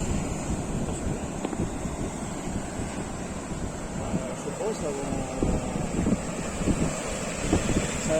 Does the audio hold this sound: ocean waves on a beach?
yes